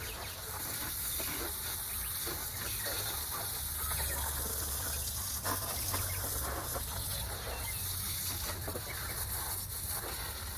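Water runs steadily and fairly loud while styrofoam is rinsed beside a 1989 Honda GL1500 gas tank during cleaning, making a continuous broadband gush and hiss with no speech.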